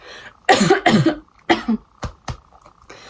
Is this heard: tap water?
no